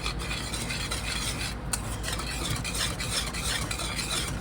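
A spoon works cheese into a warm milk sauce for Southern mac and cheese, a continuous close scraping stir with a faint sizzle underneath and no speech.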